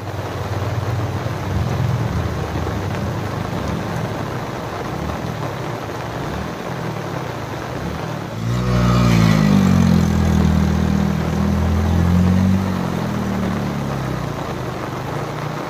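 Motorbikes riding uphill on a flood-damaged mountain village road after a cloudburst: a mid-pitched engine drone throughout, swelling louder and rising in pitch about halfway as throttle opens, with no talk.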